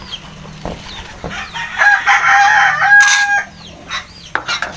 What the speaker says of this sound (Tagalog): naabutan natin si pula na nag-iiri na siya